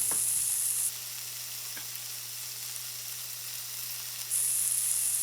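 Sliced white onion and mushrooms frying in bacon fat for Salisbury steak, a steady close hiss with a couple of faint stirring taps, no voices present.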